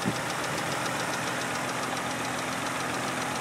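A 1995 Honda Accord 3.0 V6 idles quietly and evenly, a smooth steady hum with a faint regular ticking running through it, heard up close with no voices.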